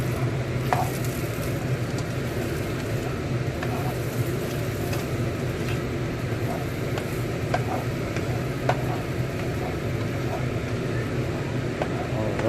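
Eggs, potatoes and beef chorizo frying in a pan make a steady close sizzle, with scraping stirs and occasional clicks of the utensil against the pan.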